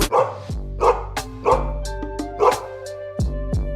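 Police dog barking in a staged arrest scene, a series of loud, close barks and yips in an uneven rhythm of about six bursts over a few seconds, with no talk.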